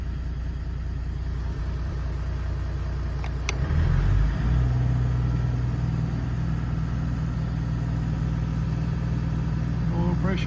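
Toyota 1HD-FTE diesel engine running at raised idle, a steady low rumble that holds throughout and grows slightly louder and rougher partway through.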